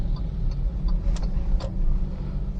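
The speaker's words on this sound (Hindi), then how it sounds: "इसको गाड़ी को 100 तक लेकर जाता हूँ, तो आप लोगों को एक अंदाज़ा हो जाए कि हाउ क्विक इट इज़" A Changan Alsvin 1.3 compact sedan accelerating from a rolling start, with a steady low engine drone and road rumble heard from inside the car and no talking.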